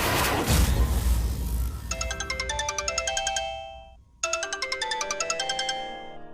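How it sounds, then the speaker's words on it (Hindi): A phone ringtone plays a bright, repeating electronic chime melody, pausing briefly before resuming, after a loud crash-like burst at the start. "कनक जी, आपका फोन"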